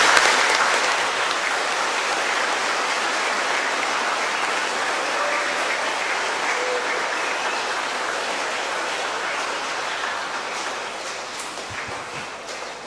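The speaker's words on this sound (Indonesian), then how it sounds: "Mari kita semua tepuk tangan." Sustained audience applause fills a church during a confirmation Mass at Santo Petrus Paulus parish in Lamalera, a steady wash of many hands clapping with no break, easing slightly near the end.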